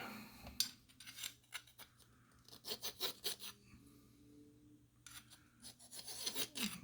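A hand file rasps across the end of a brass rifle cartridge case during handloading case prep, catching filings in a container: repeated close, gritty strokes in irregular bursts, some quick and clustered, others spaced apart.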